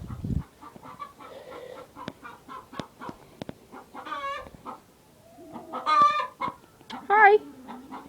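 Chickens on a flooded farm cluck and squawk close by in scattered bursts, with a louder run of calls near the end and a few brief knocks between them.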